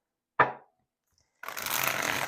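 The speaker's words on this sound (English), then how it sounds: "One more shuffle." A deck of tarot cards being shuffled at close range: a short sharp riffle, a brief pause, then a longer continuous flurry of card-flicking noise, with no talking.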